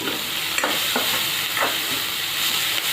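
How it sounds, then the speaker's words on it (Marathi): Shredded cabbage sizzles steadily in hot oil in a pan, with a few sharp scraping stirs of a spatula cutting through the constant close frying hiss. "याला पण तेलामध्ये छान परतून घ्यायचं"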